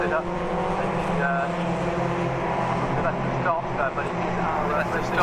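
MG race cars at Oulton Park, climbing towards the Shell hairpin, give a steady loud engine drone with shifting revs, heard trackside beneath continuous commentary.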